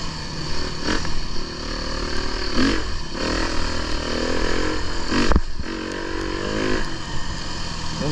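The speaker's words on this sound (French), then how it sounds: "si je prends l'exemple de ma moto" A 350cc four-stroke fuel-injected enduro motorcycle runs close by, its engine note rising and falling in short blips of revving with some clattering and scraping in between, loud and continuous.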